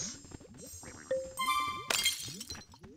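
Glass breaks and clinks as a creature eats it in the Viva Pinata video game, with a sharp crash and bright ringing shards over a busy bed of small game sounds.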